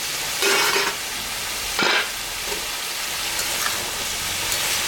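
Bottle gourd and hilsa fish being stirred in a pan, two brief bursts of scraping and sizzle about a second apart over a low constant simmer, close by and without speech.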